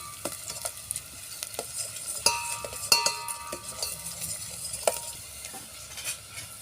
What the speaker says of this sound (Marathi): आता तेलामध्ये कांदे शिजले त्यामध्ये आपण मिरची टाकून घेऊ मिरची पण चांगली होऊ द्यायची